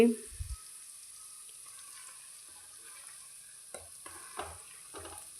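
Oil heating on a low flame with herbs for homemade hair-fall control oil gives a faint, steady sizzle, broken by a few soft stirring scrapes in the pan near the end.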